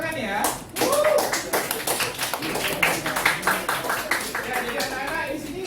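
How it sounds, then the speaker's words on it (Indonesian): Students in a classroom break into clapping, a dense run of claps with a voice mixed in near the start, held for several seconds at an even loudness. "Ya, bagus, tepuk tangan ya."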